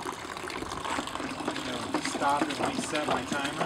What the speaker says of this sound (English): So I'm just going to increase the flow, the water flow.